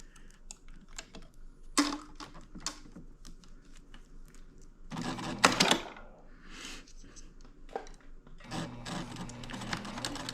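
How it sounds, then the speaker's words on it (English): A sewing machine's thread cutter fires in two loud, sharp mechanical bursts between quieter clicks and tapping of the machine nearby. "That noise is the thread cutter."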